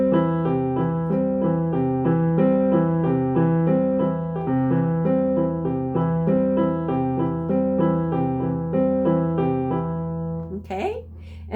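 Beginner piano finger exercise, right hand on C and left hand on G, played as a steady, even run of notes repeating evenly for about ten seconds, with a brief noise at the end.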